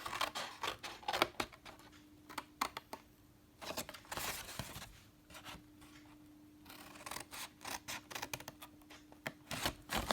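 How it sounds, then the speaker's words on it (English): Scissors snipping through cardstock along a score line for an Easter treat box, a dense run of close crisp cuts and paper rustles in bursts with a short pause in the middle, quiet and without voices. "you're going to cut right up to the second score line"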